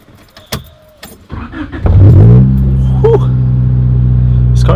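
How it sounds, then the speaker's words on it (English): A Honda Del Sol cold-starts on a chilly day: keys jangle, the starter cranks briefly, then the small engine catches with a loud rev and settles into a steady, close, rumbling idle. "Here's a cold start."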